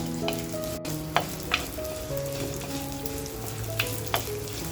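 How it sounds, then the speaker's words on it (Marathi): Thinly sliced coconut sautés lightly in a pan for chicken kharda, a soft continuous sizzle with a few sharp stirring clicks over a faint steady background tone. "थोडंसं खोबरं घेतले आणि ते सुद्धा आपल्याला असं छान हलकसं परतवून घ्यायचंय"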